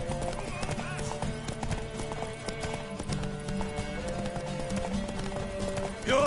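In The Witcher 3 a horse gallops with a dense run of hoofbeats under scattered voices, and a short neigh breaks out right at the end.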